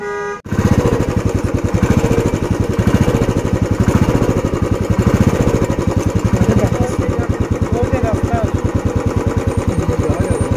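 A motorcycle engine runs steadily through a ride, loud and close, with a fast even throbbing exhaust note after it fires up at the start, sustained throughout with little variation.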